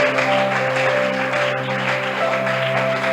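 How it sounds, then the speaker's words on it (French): Congregation applause at a Sunday church service, steady dense clapping held at an even level throughout, with a sustained organ or keyboard tone beneath. "Acclame pour toi-même."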